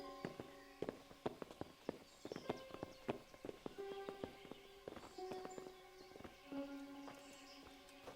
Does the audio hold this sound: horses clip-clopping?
yes